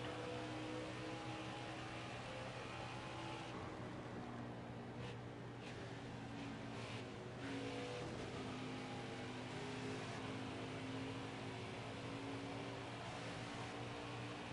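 Stock car engine drone from a NASCAR Xfinity Series video game at Darlington Raceway, a steady sustained roar with harmonic hum throughout, no talking.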